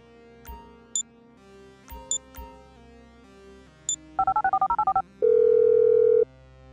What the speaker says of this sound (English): I'm making the call.